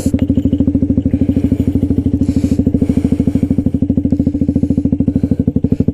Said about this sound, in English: So it's got a GPR exhaust system.